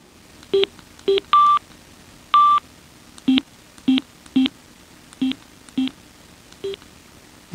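Pairing and confirmation beeps from a Sena SC1 remote working with a Schuberth C4 motorcycle helmet headset: about a dozen short, clear electronic tones with two longer held beeps mixed in, spaced irregularly with quiet gaps between them.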